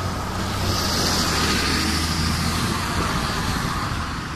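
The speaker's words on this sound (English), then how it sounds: "I've got a bus coming. Look, see, a bus!" A bus passes by on a road, a steady broadband roar of engine and tyre noise that stays loud and close for the whole stretch, with no voices over it.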